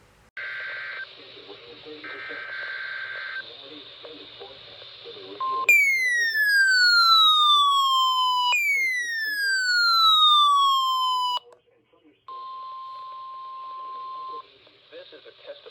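EAS emergency alert tones on NOAA weather radio: loud buzzy data bursts, then two long falling, harmonic-rich sweeping tones, and finally a steady single-pitch warning tone, all played alone with no talking.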